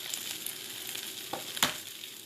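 Eggs fry with rice in a pan, giving a steady soft sizzle with scattered crackles and one sharper pop near the end, no voices.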